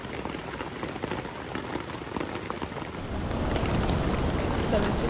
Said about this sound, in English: So it's just started heavy thundering and raining